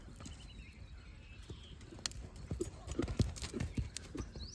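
A two-year-old horse with white hind legs and a full blaze is exercised in the early morning, its hooves clip-clopping in a quickening, uneven rhythm that grows louder, with faint birdsong behind.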